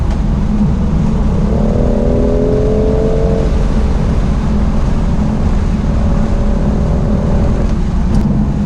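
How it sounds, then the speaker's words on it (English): BMW i8 Roadster in sport mode revving hard and pulling away, a loud steady engine and road roar with a rising tonal whine as it accelerates, with no voices. "The dials turn an angry red, the revs go high, and off you go."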